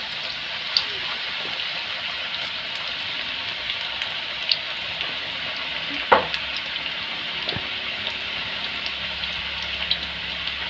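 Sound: onion bhaji frying in hot oil

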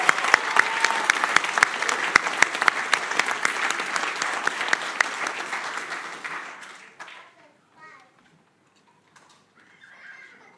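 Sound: applause for newly elected councillors

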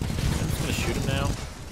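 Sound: gunfire in Titanfall 2 video game

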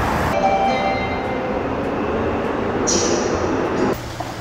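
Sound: train ride on the subway in Seoul

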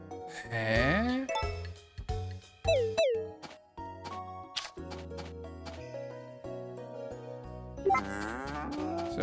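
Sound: cow mooing in the video game Story of Seasons: A Wonderful Life

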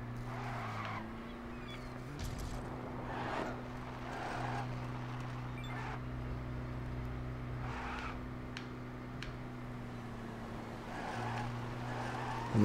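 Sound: vehicle driving in video game Lego City Undercover

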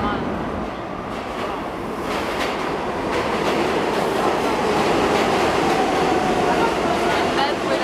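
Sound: train passing

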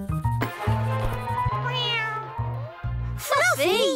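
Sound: cat meowing in a cartoon

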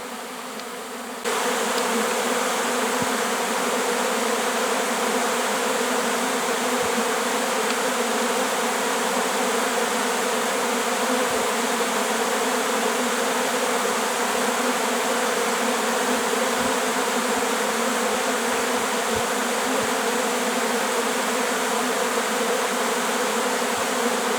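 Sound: honeybees buzzing as they settle into empty hives

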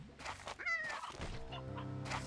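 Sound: hen clucking in video game Slime Rancher 2

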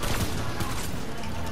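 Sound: rocket being fired in the video game Fortnite

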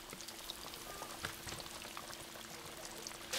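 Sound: white bass fish sizzling in pan

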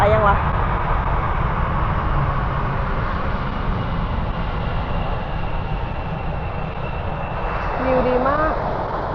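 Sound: airplane passing over playground beside Itami airport runway

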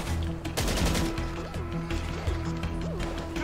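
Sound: gunfire from the video game GTA Online

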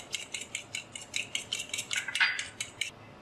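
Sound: mixing cheese and egg mixture in a bowl

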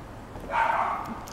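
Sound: dog barking outside near park

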